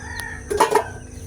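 A rooster crows in one short burst, with brief clucking from chickens just before and after, close by.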